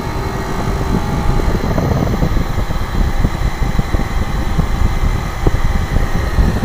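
An air conditioner running, a loud continuous mechanical hum and whir that stays steady and close throughout with no talk.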